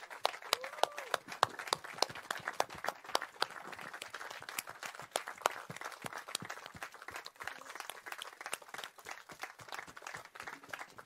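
A concert audience at Parkstad Limburg Stadion applauds a choreography in a steady, dense burst of clapping from many hands. The applause is fairly distant and continues alone with no voices over it.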